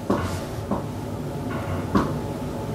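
Slow knocking from a horror movie trailer for It, a few widely spaced dull thumps on wood with a low rumbling background, moderately loud, without talk.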